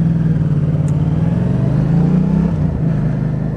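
Motorcycle engine running steadily while riding past the Bastille in Paris, a loud continuous drone with slight pitch rises and dips throughout, close and alone with no talk.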